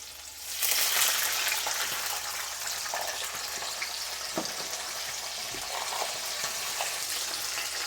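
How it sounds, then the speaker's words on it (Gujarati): Half a cup of water poured into a hot pan, bursting into a loud hiss that then settles into steady sizzling and bubbling, with a few clinks nearby. "હવે આપણે નાખીશું અડધો કપ પાણી."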